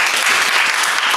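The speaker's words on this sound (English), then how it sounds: "let's give another round of applause to Mr. Jeriwan." A seminar audience applauds in a steady, loud wash of clapping that fills the whole short moment without pause.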